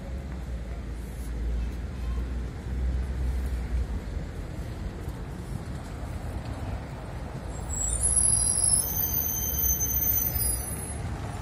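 Tram passing on a street in Lviv, a steady low rumble of city traffic with a high metallic wheel squeal rising near the end.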